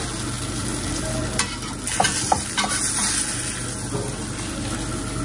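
Steady oil sizzle from eggplant frying in a pan, with a few sharp clinks and scrapes of a utensil stirring, continuous and fairly close.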